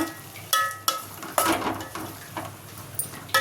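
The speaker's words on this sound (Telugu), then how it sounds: "మంచిగా నూనెలో ఫ్రై అయితే చాలా బాగుంటుంది కొంచెం ఫ్రై చేసుకోవాలి కొద్దిగా ఉడికించుకోవాలి నూనెలో" Gongura leaves fry in oil in a pan for gongura curry, with a low sizzle broken by a few sharp clinks and scrapes of a utensil against the pan. No voices are heard.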